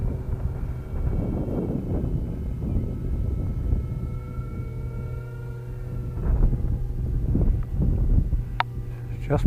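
Strong gusty wind rushes and buffets against the microphone outdoors, where small twin-motor RC planes are being flown, while a faint motor whine and a murmur of voices sit underneath.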